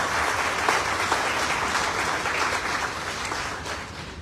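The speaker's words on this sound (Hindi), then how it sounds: "तो एक बार आप सबके लिए जोरदार तालियां हो जाए" Loud, continuous applause from an audience at a gathering, with dense clapping throughout that eases slightly toward the end.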